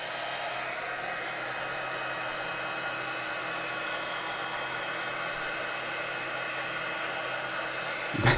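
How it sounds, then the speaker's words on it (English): A heat tool blows hot air steadily onto a mixed-media art journal page, a continuous loud whooshing hiss that holds for the whole stretch, with a brief bump near the end. "I've lost the heat tool."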